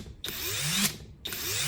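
A mid-torque impact wrench with a socket fitted whirs up to speed when the trigger is pulled, runs for about a second, cuts off briefly, then spins up again, loud and close.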